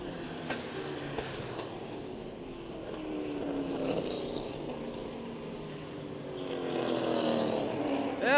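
Vintage stock race cars, a Torino among them, roar around a track at an October event, their engines forming a continuous drone with rising and falling pitch as they pass, growing louder near the end.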